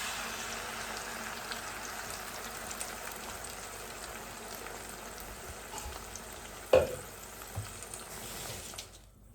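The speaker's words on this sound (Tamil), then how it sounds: "முடக்கத்தான் பூரியை இதுக்குள்ளே விட்டு கொதிக்க விடுவோம்." Modakkathan (balloon vine) leaf paste and juice simmer in a pot on the stove, giving a soft, steady bubbling and sizzling hiss at low volume, with one sharp utensil clink near the end before the sound cuts off.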